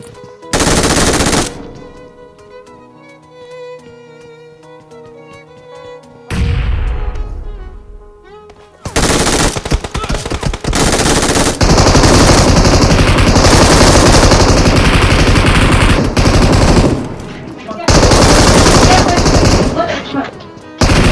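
Loud bursts of automatic gunfire from an online multiplayer shooter match, rapid machine-gun rattles and single shots coming in waves, with in-game music and effects between volleys.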